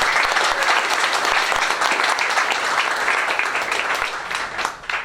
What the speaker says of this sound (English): Let's give a round of applause for both companies